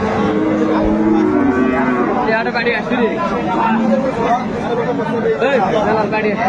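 Sahiwal cows and calves at a rural cattle market, with bovine calls blending into a steady, dense crowd murmur of people talking throughout.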